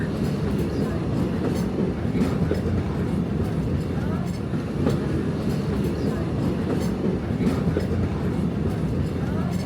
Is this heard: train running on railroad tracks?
yes